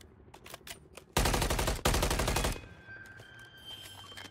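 Automatic gunfire in Call of Duty Modern Warfare 3 erupts as two loud, dense sustained bursts close together, then fades into quieter game noise and tones.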